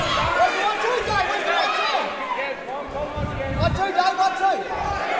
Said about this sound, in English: And the crowd's getting involved